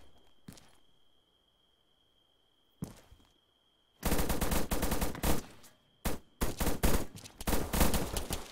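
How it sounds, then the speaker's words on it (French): Bursts of automatic gunfire in Arma 3 Altis Life, loud, dense volleys of suppressive fire starting partway through, after a couple of isolated distant shots, with a brief pause before another sustained burst. "Tir de suppression."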